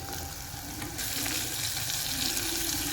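Radish pieces frying with tomatoes and turmeric for sambar give a steady, dense sizzle close by that grows louder and fuller after the first second, with no talking.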